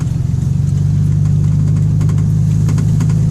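A steady low truck engine rumble while driving on a South Carolina farm after Hurricane Florence, droning continuously and loudly up close with no voices.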